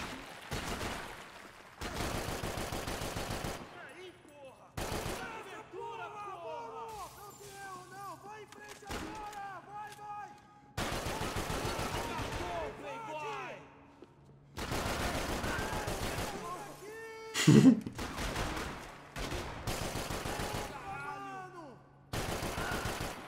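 Gunfire in the video game Max Payne 3 rings out in repeated sharp, loud bursts of shots separated by short pauses, with someone talking between and over the volleys.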